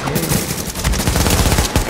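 Automatic gunfire rattles in Tom Clancy's The Division, a loud, close burst of rapid overlapping shots that keeps pounding for the whole two seconds with no speech.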